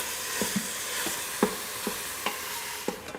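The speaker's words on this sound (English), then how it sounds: "Now we're going to add the lamb. Now we're going to saute that for 5 minutes." Lamb sizzles in an Instant Pot on the saute setting, a steady frying hiss broken by a few sharp scrapes and taps of a stirring utensil.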